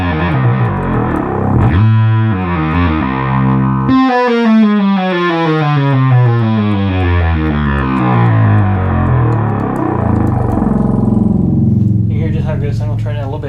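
Restored 1972 Minimoog synthesizer with all oscillators set at 32, droning loud and thick as its tone shifts and sweeps; a rich sustained low note dominates, with a short change near the end.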